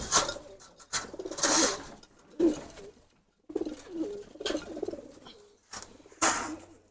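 Pigeons coo softly and repeatedly in low, throaty bursts, with brief rustling between the calls and no talking.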